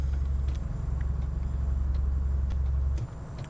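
A steady low engine drone from an Iveco Stralis truck in Euro Truck Simulator 2 hums continuously, smooth and even, dropping off slightly near the end.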